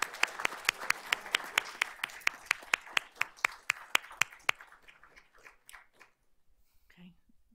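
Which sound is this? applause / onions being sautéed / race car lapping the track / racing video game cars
applause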